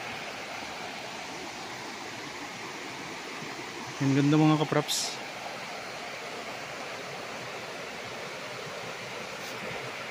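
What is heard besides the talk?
river water flowing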